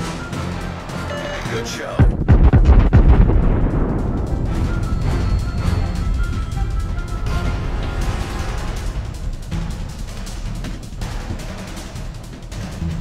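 A heavy explosive boom in a World of Warships naval battle, a sudden loud blast followed by a long rumbling decay and continuing battle noise, with a brief spoken remark.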